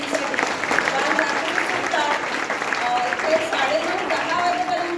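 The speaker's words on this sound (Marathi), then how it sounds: "एकदाच खरंच जोरदार टाळ्या आमच्या टीमसाठी" A school audience claps loudly for the organising team at a seventh-grade history performance, sustained applause with a few raised voices and crowd murmur mixed in.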